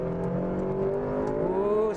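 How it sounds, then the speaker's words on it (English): A 2009 Honda Civic Si FG2 with a K-Series VTEC engine revs steadily and loudly for a couple of seconds, its rising harmonic engine note sustained throughout with no pause. "I love the way this K-Series engine sounds."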